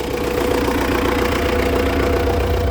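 An MTZ 892 tractor engine drones steadily while plowing a corn field, a close, loud, continuous rumble with a faint rhythmic throb and no talking.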